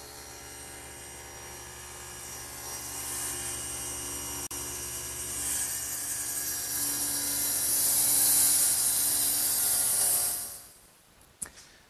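A table saw runs loud and steady with a high whine, then powers down and spins to a stop near the end, followed by a couple of faint clicks as the blade is lowered.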